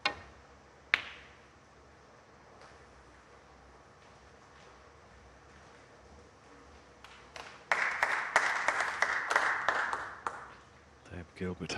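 Crowd at a snooker match at the 2023 British Open breaks into a loud cheer and applause for a local player potting a long red, a burst of clapping rising midway and swelling briefly, with commentary voices around it.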